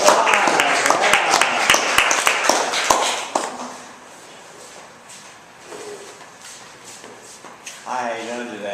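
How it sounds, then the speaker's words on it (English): An audience claps in a short burst of scattered applause that fades after a few seconds, followed by quieter room noise and people talking. "Let's give her a round of applause."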